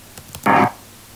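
Brief burst of harsh static interference from the Mommy Long Legs game trailer, a loud half-second crackle preceded by a couple of faint ticks, with no talking.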